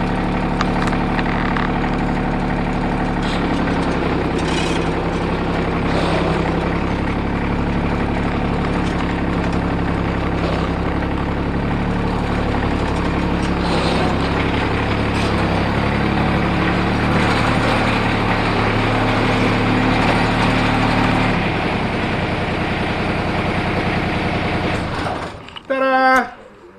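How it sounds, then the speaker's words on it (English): A John Deere riding mower's three-cylinder engine runs at a steady, close, loud drone with a low mechanical rumble and faint rattles, holding one pitch for nearly half a minute before it shifts and drops out abruptly near the end. "Start it right up, raise the deck a little bit, give it a little bit of gas, and let's go."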